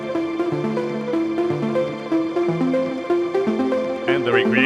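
Bright electronic synth plucks from a track in its original form, a quick, steady, arpeggiated pattern of short tonal notes over a low bass line, loud and continuous with no voice.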